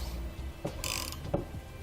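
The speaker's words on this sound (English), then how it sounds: "We're going to take a 1/2 inch tap and we're going to clean out those holes from any paint or anything else" A 1/2 inch tap clears paint from threaded holes in the underbed rails of a 2015 Chevrolet Silverado 2500 during a gooseneck hitch install, giving a few faint metallic ratcheting clicks at close range.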